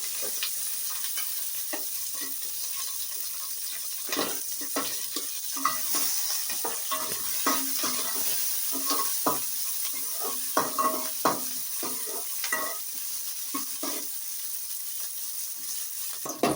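Green chillies, curry leaves and onion fry in hot oil for a chutney, giving a constant loud sizzle with frequent stirring scrapes and light utensil taps, up close and without talk.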